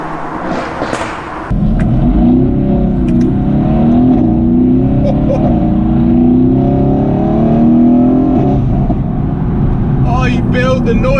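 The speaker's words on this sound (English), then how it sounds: "Oh, you build the noise up the rev range." A Renntech-tuned Mercedes-AMG GT S engine drones loudly from inside the car as it climbs through the revs in a long sustained pull, with someone talking over it.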